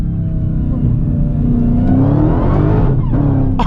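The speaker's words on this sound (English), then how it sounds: "This will absolutely light up the tires in second gear." A Dodge Demon accelerates hard in second gear with its tires spinning, its engine roaring loud and close with a climbing whine and continuous rumble, and a brief shift or dip near the end.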